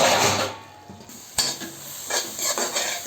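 Tomatoes sautéing in a pan for paneer butter masala, a steady close sizzle with a few scrapes and stirs of a spoon against the pan throughout.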